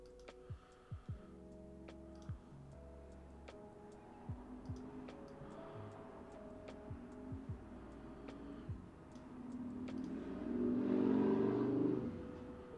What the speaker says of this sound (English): Hey, big motorcycle driving by outside.